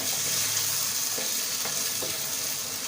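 Chicken with masala sizzles and fries steadily in a pan, a loud continuous hiss with a few faint scraping stirs, close and without talk.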